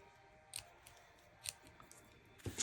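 Scissors trim paper for a handmade card, giving three faint, sharp snips spaced about a second apart over a quiet background hiss.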